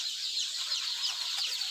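A flock of young chickens on a poultry farm fills the air with a dense, continuous chatter of high-pitched peeps and clucks, close and steady throughout.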